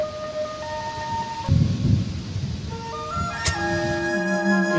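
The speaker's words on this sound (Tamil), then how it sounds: "இந்த இடியில தான் ஸ்டார்ட் ஆகும்" Rolling thunder opens a song, a deep rumble under rain-like hiss, soon joined by sustained synth or flute tones rising in pitch, with a sharp crack of thunder partway through.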